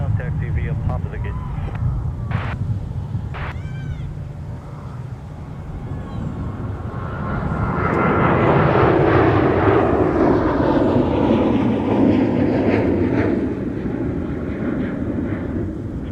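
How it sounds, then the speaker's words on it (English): An American Airlines Boeing 737-800 takes off from runway 30 left, its engine roar building into a loud, broad rumble that swells midway and holds steady, with brief radio-style speech and chirps before it. "Here's American Airlines with a 737-800 off 30 left."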